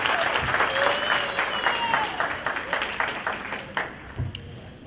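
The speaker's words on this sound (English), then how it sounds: "can we just give a big round of applause for the graduates" A crowd at a graduation ceremony applauds steadily with dense clapping that slowly thins and fades toward the end.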